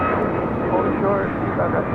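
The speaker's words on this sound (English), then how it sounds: "This is United 2377 taking off to Houston Intercontinental on a MAX 9." A United Boeing 737 MAX 9 jet taking off at LAX toward Houston, a loud, steady broadband engine roar heard from nearby, with voices talking over it.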